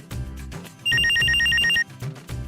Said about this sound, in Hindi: ठीक है, फोन करें मुश्ताक को।